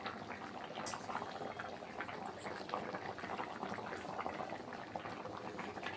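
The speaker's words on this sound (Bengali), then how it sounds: "তরকারিটা ফুটছে" A Bengali bhola fish jhal curry bubbles in a pan, a soft, continuous simmering crackle and fizz, fairly quiet and close, with no voices over it.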